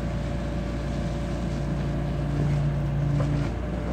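A 2011 Doosan DX55W wheeled excavator with a Yanmar diesel engine runs at a steady idle, giving a constant, even low drone with no breaks and no voices.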